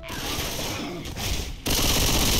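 Close, loud bursts of automatic gunfire in Left 4 Dead 2 are fired by accident and run continuously, pausing briefly before a harsher final burst.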